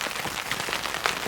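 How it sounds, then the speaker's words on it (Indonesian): Rain pattering steadily on a tent on a mountain hike, dense close drumming of drops with occasional louder taps, no voices. "kondisi lagi hujan kayak gini"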